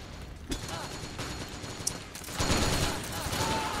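Gunfire in Metal Gear Online from shooters on a roof, a busy mix of scattered shots and bursts of moderate loudness, heavier toward the end, with game noise underneath.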